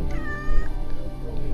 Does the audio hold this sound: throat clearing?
no